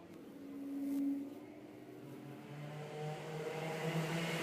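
DRS 100 race karts accelerating away from a rolling start in a Daniel Ricciardo Series heat, a pack of engines whining and building in pitch, moderately loud and steady, with rising tones layered over one another.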